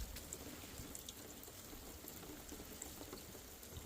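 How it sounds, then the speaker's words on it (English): Morning rain falls on a campsite in Mungo National Park, New South Wales, as a faint, even patter with scattered sharper drop taps and no talking. "It's raining."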